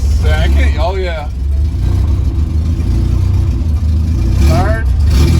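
A Honda CRX S engine revving as the car pulls away and shifts into second gear, a loud close engine drone with rising pitch sweeps at the start and near the end, while people talk over it.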